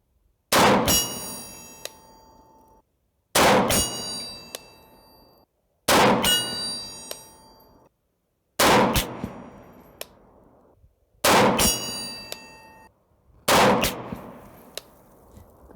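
Rifle shots fired at a steel target outdoors while testing a Primary Arms GLX 2X prism sight: six sharp cracks spaced about two to three seconds apart, each followed by a ringing metallic clang from the struck steel, loud and clear with no talk.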